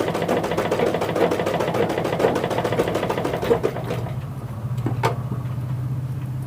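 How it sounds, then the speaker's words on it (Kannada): A tailor's sewing machine stitches a curved seam in cloth with a fast, steady mechanical clatter that runs continuously, then slows and stops near the end, leaving a low hum. "ಈಗ ಕರ್ವಿಂಗ್ ಹೊಲಿಗೆ ಹಾಕ್ತಾ ಇದ್ದೀನಿ"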